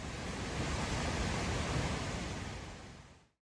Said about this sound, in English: The last little Easter egg is the sound of a waterfall in Iceland.